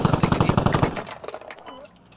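Rapid automatic gunfire from a military shooter game, a burst of loud, evenly spaced shots for about a second that then breaks into a few scattered fainter reports and fades out.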